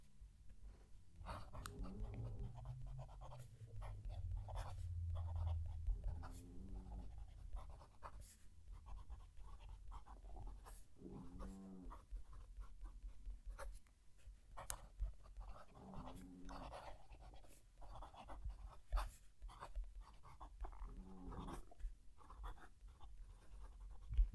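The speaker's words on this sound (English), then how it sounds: "Going to move the mic down to the page and write a sentence." A Parker Jotter fountain pen fitted with a small Kaweco steel nib writes a sentence on paper, giving soft, close scratchy strokes in short bursts with brief pauses, alone without talk.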